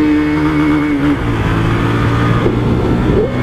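A Honda CB300R motorcycle fitted with a diffuser exhaust revs loud and close, its harsh, raspy roar steady then dropping in pitch before rising again near the end, with no talking.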